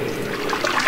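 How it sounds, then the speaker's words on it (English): A video game character in Project Zomboid drinking water, heard as a brief, steady liquid gurgle lasting under a second. "but drink water"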